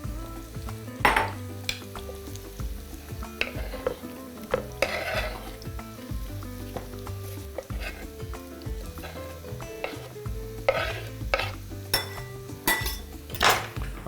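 Mushrooms browning in a frying pan while chicken drumsticks with mushroom sauce are prepared, a steady close sizzle broken by repeated scrapes and clinks of a utensil stirring against the metal pan, with no talk.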